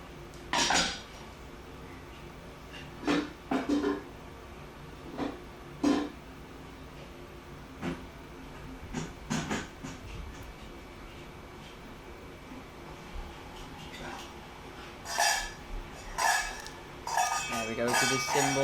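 Metal pots and pans clank and clatter in scattered bursts, some sharp hits ringing briefly, with quieter gaps between and faint background noise.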